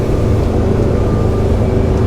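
Frauscher 1017GT motorboat engine roars as the boat accelerates, a loud, steady, close drone with rushing water and wind, continuous throughout with no talking.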